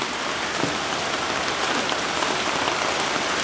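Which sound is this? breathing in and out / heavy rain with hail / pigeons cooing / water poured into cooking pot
heavy rain with hail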